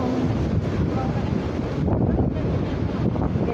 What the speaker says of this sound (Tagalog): It's very windy, still windy, and the sea is like very angry.